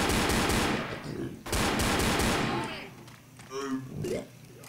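Rapid bursts of automatic gunfire from guns in the video game Left 4 Dead, loud and dense for about three seconds, then thinning into scattered shots and softer game noise.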